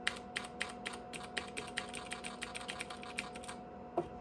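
Keys on a Nan Tan 8100 386 laptop with a faulty keyboard controller are tapped at a steady, quick rhythm, close and fairly quiet, with a faint steady hum underneath and one last louder keystroke after a short pause.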